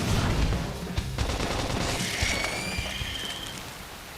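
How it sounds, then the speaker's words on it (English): Burst of crackling, rapid explosive pops from a flame grenade in the video game Xenoblade Chronicles X, with a dense opening blast that fades into sizzling crackle and a thin ringing tone. "Flame grenade. Let's try that."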